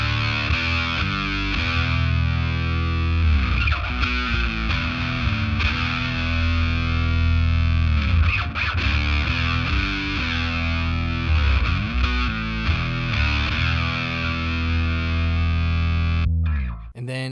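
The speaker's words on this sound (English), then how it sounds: "I usually just combine this bass octaver and then the big muff fuzz, and that sounds like this." Bass guitar run through an octaver and a Big Muff fuzz pedal on a worship bass pedalboard, playing a thick, distorted, sustained line with steady loudness for about sixteen seconds before cutting off abruptly.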